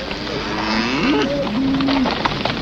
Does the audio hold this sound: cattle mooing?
yes